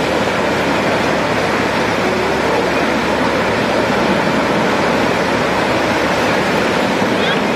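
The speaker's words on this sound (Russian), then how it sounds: "Здесь постоянно шумит море." Sea surf at Ladies Beach in Kusadasi, heard from a beachfront hotel window, gives a constant, loud, even roar of breaking waves with no pauses.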